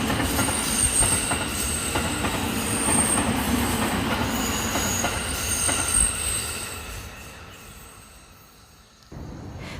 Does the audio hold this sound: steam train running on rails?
yes